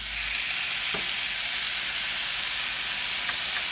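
Stuffed bitter gourd frying in a pan as tamarind pulp goes in, giving a steady, loud, close sizzle throughout with no voices.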